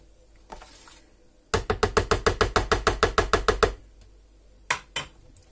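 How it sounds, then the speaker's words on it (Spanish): A utensil scrapes and knocks rhythmically against a yogurt maker container while stirring a yogurt mixture: a fast, even run of about fifteen close strokes, followed after a pause by a couple of further knocks. "Espérate, que lo voy a remover bien porque se queda pegado en las paredes."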